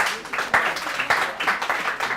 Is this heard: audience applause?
yes